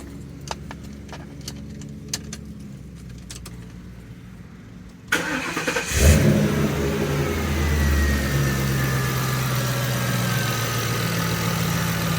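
A Ford Crown Victoria 4.6L V8 left running to heat soak fresh oil: quiet clicks and handling noises, then the engine cranks and fires around the midpoint, settling into a steady, fairly loud idle with a low rumble.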